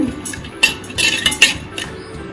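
A dish is set over a bowl of pickled cucumber raita, several light clinks and a short scrape of tableware, close and fairly quiet with no one talking.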